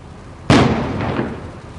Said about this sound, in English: It was a disruption device designed to disable another bomb in the apartment by emitting a shock wave and water.